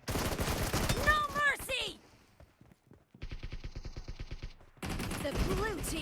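Gunfire in an online arena shooter game, rapid bursts of automatic shots in a quick rhythmic run, mixed with game sounds and voices talking over the action.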